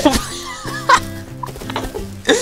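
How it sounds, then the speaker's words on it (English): A chicken clucks a few times in short bursts over a steady tonal background hum, in the survival video game Rust. "There's a chicken! I heard a chicken!"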